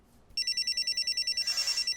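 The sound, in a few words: telephone ringtone ringing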